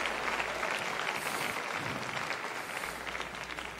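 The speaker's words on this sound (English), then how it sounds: "If you love Bishop and Pastor Whaley, would you clap your hands and thank the Lord for such an amazing leadership team?" A church congregation applauds warmly, a dense, sustained clapping that fills the room throughout at an even level, with no voices standing out.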